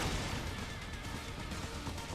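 Enemy gunfire in the video game Metal Gear Rising, a dense, continuous barrage of loud blasts and bursts that fills the whole stretch with no talking.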